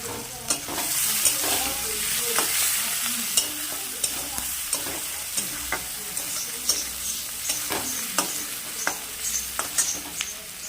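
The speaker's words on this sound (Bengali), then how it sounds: "দিয়ে দেবো পেঁয়াজ বন্ধুরা দেখতেই পাচ্ছ তেলটা আমার খুব গরম হয়ে গেছে" Onions and whole garam masala frying in very hot oil, a loud continuous crackling sizzle with frequent spatula clicks and scrapes as the pan is stirred, close up and without talk.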